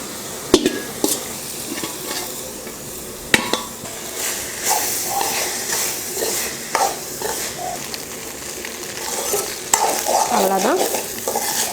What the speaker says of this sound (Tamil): மல்லித்தலை சாதத்தையும் கிளறி விட்டாச்சு.